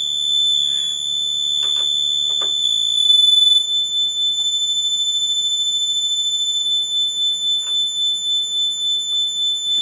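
Out-of-tune Minimoog synthesizer oscillators on a high A, a steady piercing tone with a slow wobbling beat pulsing through it, alone and fairly loud.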